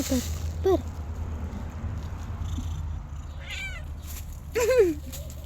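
Several pet cats meow in a home, a short call near the start and longer rising-falling meows later, close and fairly loud over a steady low hum, with someone talking to them in between.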